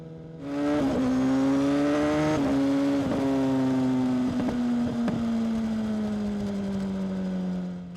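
A motorcycle with full titanium headers and a Pipeworks link pipe and end can accelerates hard and close, its rising engine note broken by quick gear changes over about seven seconds, with no talk.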